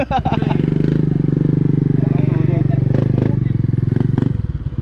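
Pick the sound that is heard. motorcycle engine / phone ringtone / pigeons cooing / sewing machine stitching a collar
motorcycle engine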